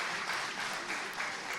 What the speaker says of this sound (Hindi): एक बार थोड़ी सी दोनों हाथ उठा दीजिए, तालियां दे दीजिए